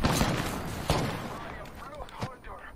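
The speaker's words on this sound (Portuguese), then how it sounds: "Para de atirar em mim" Gunfire during a shootout in the battle royale game Apex Legends, a few sharp shots and cracks over dense action noise, mid-distance, with a faint voice underneath.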